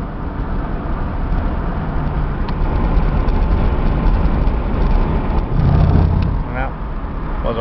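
A bright red 1994 Chevy Camaro with a 6-cylinder engine cruises down a road at about 55, with steady loud engine and road noise rising slightly mid-way, and a person talking over it.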